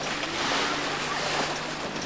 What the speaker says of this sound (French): Ralentis un peu le moteur si tu peux!